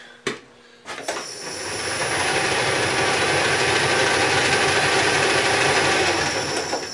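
A metal lathe turning steadily at 500 RPM during tailstock chuck work: a continuous loud broadband whir with a high whine, starting after a couple of short knocks and holding even throughout, no talk.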